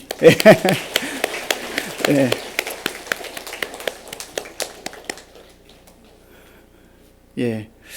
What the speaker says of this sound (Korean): 나오는 동안 우리 박수로 한번